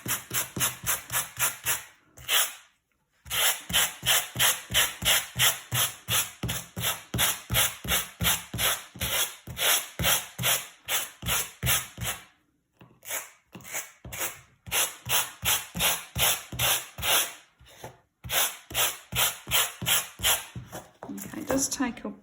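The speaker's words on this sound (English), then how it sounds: "it does take a bit of work if you're brushing the fringe out completely, but these pet brushes are a really good idea" A pet brush drags repeatedly through frayed macramé cord fringe on boho bunting, making close, rhythmic scratchy rasping strokes in quick series with a few short pauses, and a voice talks over the brushing.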